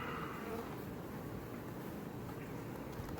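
Honey bee swarm in a backyard hive a day after being installed: dense, steady buzzing drone, faint and continuous throughout, with no talking.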